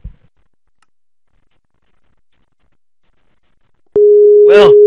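A Skype call ringing tone begins abruptly after near silence, a loud steady electronic tone with a warbling chirp on top, heard alone.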